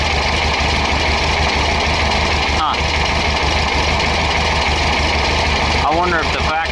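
A 1969 VW Baja's air-cooled engine idles steadily with a rough, knocking rumble, suffering from carburetor icing, heard continuously at close range without a break.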